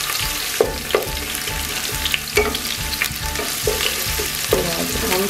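Onions fry in a pan with cinnamon, a loud steady sizzle close by, broken by a few spatula knocks and scrapes as the pieces are stirred.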